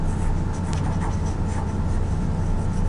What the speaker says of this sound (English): I'm going to erase this.